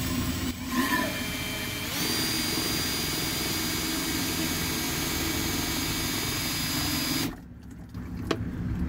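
A homemade high-volume transfer pump with 5/8 heater hose on the outlet runs outdoors in 16-degree Michigan cold, giving a loud, steady whirring roar with a start-up surge that drops to a lower hum near the end.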